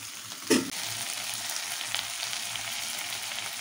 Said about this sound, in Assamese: আৰু আলু দিয়া গ'ল আলুটো ভাজি লোৱা যাব